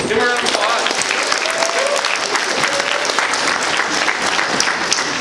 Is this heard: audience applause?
yes